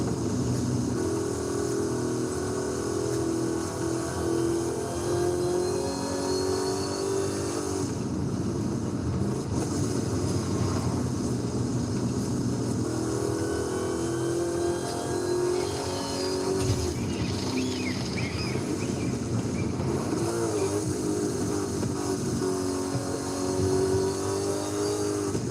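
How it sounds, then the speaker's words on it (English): In Forza Horizon 5, a supercharged car cruises along at night. Its engine drones continuously with rising and falling whine as it revs and shifts, steady and fairly loud throughout. "The supercharger on here, rolling real big."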